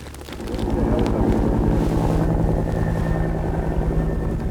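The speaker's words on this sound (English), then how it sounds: "I heard his propeller for a long time" Propeller airplane taking off at a desert airport, a loud droning engine roar rising then holding steady with wind rumble, close to the microphone.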